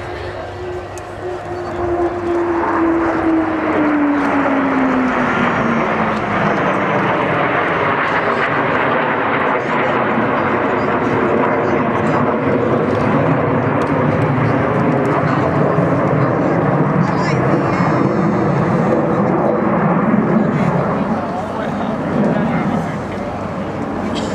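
A 60-year-old Hawker Hunter jet flies past at the Waddington air show in 2011, its loud, sustained roar opening with a falling whine as it passes and then holding as a powerful rumble.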